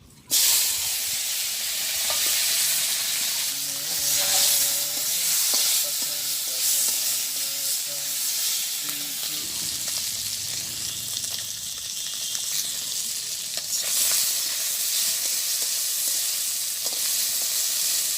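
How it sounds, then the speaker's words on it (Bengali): Local fish frying in oil in a wok on a village stove: a loud, continuous, dense sizzle with crackling and occasional stirring that carries on unbroken, with no one talking. "কড়াই দিয়ে দিছি চুলার পর, তেলও দিয়ে দিয়েছি। এখন মাছটা ভাজি করে নেই।"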